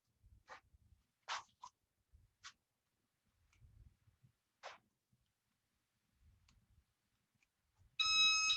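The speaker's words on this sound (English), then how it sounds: "That's just beeping." A short burst of steady electronic beeping from a workout timer near the end, after a stretch of quiet with a few scattered clicks and faint thumps.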